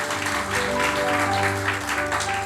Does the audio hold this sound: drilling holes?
no